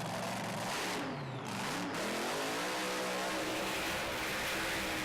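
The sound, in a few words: drag racing cars doing burnouts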